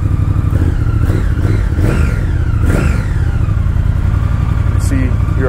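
A 2019 Triumph Speed Twin motorcycle engine revs loudly and up close, with repeated throttle blips rising and falling over a steady idle rumble.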